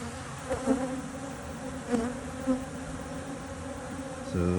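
Honeybees buzz steadily in an opened hive, a dense close hum with a few louder swells as individual bees pass near, and a brief heavier rise at the very end.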